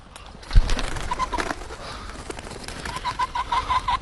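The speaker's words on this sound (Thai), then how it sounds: "ผมยังได้ยินเสียงนกเลย" Raptors calling outdoors, with short repeated chirps in bursts over a rustling background and a thump near the start.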